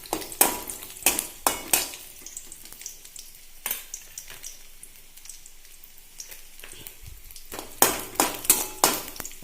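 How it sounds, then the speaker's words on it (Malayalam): Garlic fries in coconut oil in a pan, with a steady soft sizzle under sharp bursts of clattering metal stirring that come in clusters at the start and end and fade to a quieter hiss in the middle. "ആദ്യം തന്നെ അതിലേക്ക് ഞാൻ വെളുത്തുള്ളി ചേർത്ത് കൊടുക്കുകയാണ്"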